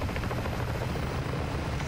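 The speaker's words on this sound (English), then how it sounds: "I didn't destroy the helicopter." A helicopter drones continuously nearby in Modern Warfare Zombies (MWZ), its rotor producing a dense, steady thumping roar with no talk.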